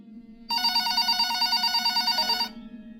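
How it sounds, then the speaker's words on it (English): A telephone on a shop counter rings in a single sustained electronic trill lasting about two seconds, loud and close over a low background hum, then cuts off. "About an hour later, the phone on the counter rang."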